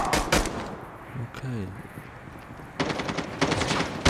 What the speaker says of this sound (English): I'm gonna use the pistol